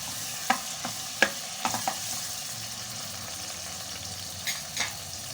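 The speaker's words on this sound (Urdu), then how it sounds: "لہسن کو ہم گولڈن ہونے تک بھونیں گے۔" Garlic paste fries in hot ghee in a village kitchen, giving a soft, steady sizzle with a few sharp clinks and scrapes from stirring scattered through, and no voices.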